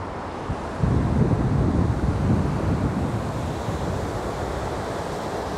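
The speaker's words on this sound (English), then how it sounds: "This is the River Dee." The River Dee flowing through Llangollen in North Wales, a steady broadband rush of moving water that swells louder after the first second and holds constant, with wind buffeting the microphone and no talk.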